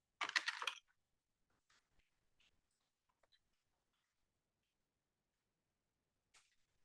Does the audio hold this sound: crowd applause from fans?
no